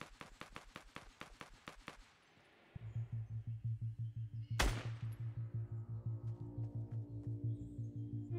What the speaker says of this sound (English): I hear someone shooting.